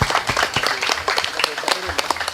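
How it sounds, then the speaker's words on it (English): An audience at an Indonesian portraiture exhibition event claps in a dense, lively round of applause, close and loud, with voices mixed in beneath the clapping. "give a round of applause to all of the artists, exhibitor, and Dr. Wee Hong Jin"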